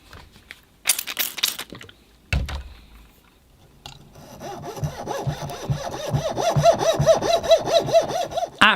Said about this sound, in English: After a lot of sawing, I got all my horizontal cuts made.